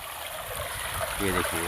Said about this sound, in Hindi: पानी निकल रहा है।